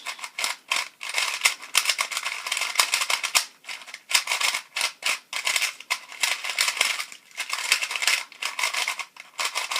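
A 55mm Fangshi Shishuang 2x2 puzzle cube being turned, giving quick dry plastic clicks and clacks in irregular bursts with short pauses, close and fairly quiet.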